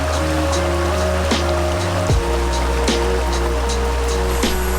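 Waterfall pouring steadily into a natural swimming pool below a plateau, a continuous close rushing wash of falling water with no gaps, overlaid by faint tonal hums.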